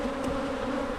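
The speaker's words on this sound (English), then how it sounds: "These bees really ain't bad today. They're just flying," Honeybees fly around a hive in early spring, a steady close buzzing hum that fills the whole moment without pause.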